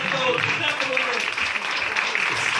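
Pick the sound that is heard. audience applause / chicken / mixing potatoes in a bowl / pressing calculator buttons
audience applause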